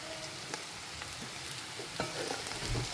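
Kottu parotta fries on a hot griddle while being tossed and mixed, a dense, close sizzle punctuated by scattered scraping clanks of the mixing tools.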